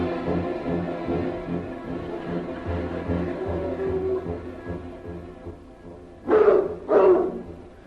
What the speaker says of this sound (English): The dogs are catching up with us!